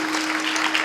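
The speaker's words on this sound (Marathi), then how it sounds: "टाळी वाजवा टाळी." Audience applause at a Marathi kirtan by a comic preacher, a dense, steady wash of many hands clapping together, close and continuous, with no talk over it.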